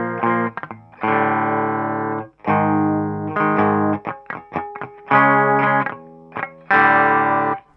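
A distorted electric guitar plays a riff, with loud sustained power-chord strums broken by quick, choppy muted up-picks. The playing is close and dry, with no voices.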